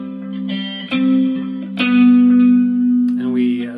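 Electric guitar plays the opening measure of a song slowly, a few plucked notes with a long sustained note carried through with reverb, ending on a bending, shifting tone.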